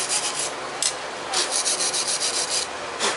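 Gunk is scrubbed off a piece of metal before forging, with close, loud rhythmic rasping strokes in rapid back-and-forth bursts.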